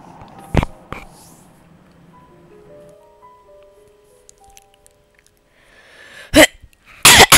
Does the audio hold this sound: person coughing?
yes